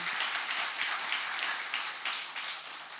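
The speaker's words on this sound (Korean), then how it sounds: "주님께 영광의 박수를 올려드립니다" A church congregation at a Friday worship meeting claps in praise, a dense, fairly loud wave of many hands sustained evenly for a few seconds.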